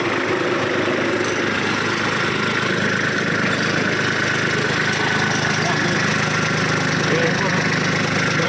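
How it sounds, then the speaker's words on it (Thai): A Kubota B2410 tractor engine idles steadily nearby with a constant mid-low diesel hum and vibration, while someone talks over it. "คันนู้นเราก็ยังไม่ดับเครื่องนะครับ"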